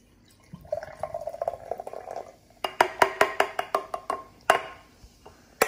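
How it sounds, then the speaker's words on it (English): Soda is poured from a container into an empty jar, giving a gurgling pour followed by a run of sharp, rhythmic glassy clinks and splashes, close and fairly quiet. "So you're going to start by pouring this, your soda into your empty jar."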